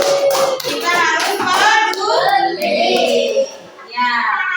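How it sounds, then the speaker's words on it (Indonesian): A classroom of children claps their hands in a dense, lively burst of applause, with young voices chattering over and between the claps. "boleh tepuk tangan"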